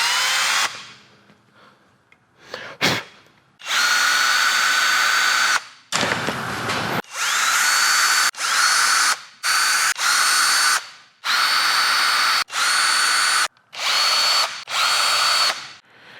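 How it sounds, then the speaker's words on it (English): A power drill bores holes for floating candle props, loud whining bursts of varying length separated by short pauses, close and without talk. "Got them all drilled out now."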